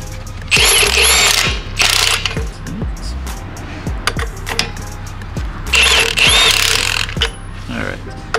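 Socket ratchet tightening a lug bolt during a tire change, sharp metallic clicking bursts in several quick runs separated by pauses, close and loud, with voices in between.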